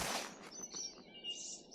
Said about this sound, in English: there's some down here in the tree here